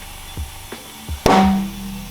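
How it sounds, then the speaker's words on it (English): A tire bead snaps onto a RAV4 wheel rim under compressor air: a few soft taps, then one sharp, loud pop followed by a brief rushing hiss of air, close by with no talking. "That is the sound of the bead popping."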